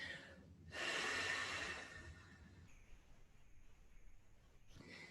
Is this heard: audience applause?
no